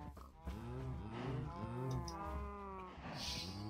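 Cows mooing in the Minecraft video game, several drawn-out low moos following one another, clear and close with no voices over them.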